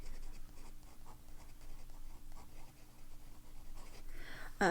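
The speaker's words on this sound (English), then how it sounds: "I'm just gonna write Boysenberry." Fountain pen with Birmingham Pen Company ink writing a word on paper, soft faint scratchy strokes in short irregular bursts, close and quiet, ending with a brief louder handling noise.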